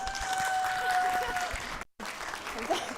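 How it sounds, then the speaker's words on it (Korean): Welcoming applause at a Bucheon sustainability council workshop, a dense, steady wash of clapping from the room with faint tonal hum underneath, briefly cutting out near the end before resuming. "환영의 박수 부탁드립니다."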